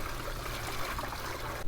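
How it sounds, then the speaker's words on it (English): Water pours steadily into the tray of a DeWalt D24000 10-inch wet tile saw, a continuous close splashing trickle with no break. "We'll fill it with water and test it out."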